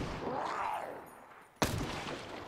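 A single sharp gunshot from a firearm in the zombie survival video game Zelter, a sudden loud crack with a short ringing tail, following a quieter stretch of ambient game sound.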